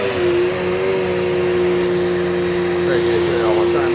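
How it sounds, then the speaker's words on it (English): A Dirt Devil multisurface vacuum cleaner runs loud and steady with a constant whine and airy roar, no breaks throughout. "It's a great vacuum. It's lightweight."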